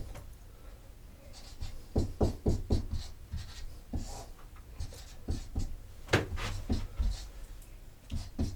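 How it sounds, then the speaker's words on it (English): Writing during a lecture: a series of faint tapping and scratching strokes, likely chalk or marker on a board, in irregular bursts with quiet gaps, close and alone with no talking. "Or maybe I just write it here."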